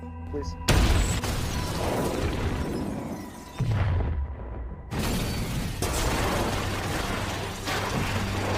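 A car bomb explodes in the film 22 July with a sudden loud boom, followed by sustained rumbling and debris noise and then a second heavy blast, while a narrator speaks over it.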